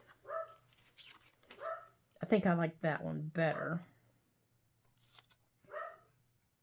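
A dog barks indoors in a few short bursts, spread out across the clip and heard between and under a person talking nearby.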